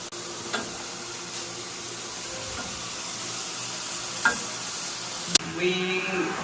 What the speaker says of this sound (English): then we wait 4 minutes to fry